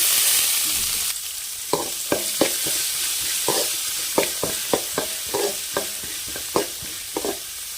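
Carrots and beans stir-fried in a pan for carrot-bean rice, a steady sizzle with about a dozen sharp scraping stirs of a spatula in an uneven rhythm, close and alone.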